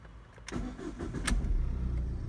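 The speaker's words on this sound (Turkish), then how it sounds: "Şu an arabayı da çalıştırıyorum." The engine of a 2014 Ford Connect cranks briefly, then catches and settles into a steady, close, low idle.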